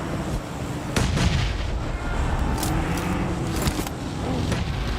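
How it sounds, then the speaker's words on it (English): Grenade explosions from a PUBG Mobile esports match, heard as a few sharp booming blasts at about one-second intervals over a steady layer of game battle noise, with no talk. "Nade after nade to keep the pressure on downhill."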